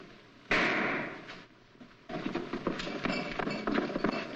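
A gunshot sounds in a courtyard as one sharp crack, followed by a scuffle of running footsteps and clatter that goes on after it, with no voices.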